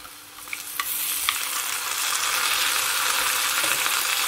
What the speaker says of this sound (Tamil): தக்காளி நன்றாக வெதும்பி வர மட்டும் கலந்து விட்டு கொள்ளுங்கள்